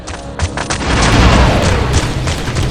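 Grenades explode in Star Wars: Republic Commando with a loud, close, booming blast. A dense rumble and crackle of debris sustains it through the whole moment, with no voices over it.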